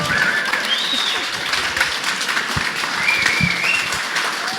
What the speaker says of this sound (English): Can you guys please give them a standing ovation for putting this on?